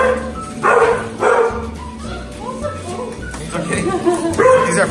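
Dogs, including a Siberian Husky, bark in short bursts close by, with people talking over and between the barks.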